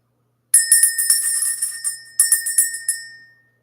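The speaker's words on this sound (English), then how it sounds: "Let's ring the bell." A small bell is rung in two bursts of quick, bright shimmering strikes, loud and close, with a clear ringing tone that fades out into silence.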